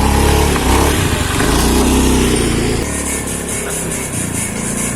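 A motorcycle engine roars loud and close, holding a strong, rough drone before dropping to a lower, steadier running note partway through, with no talking.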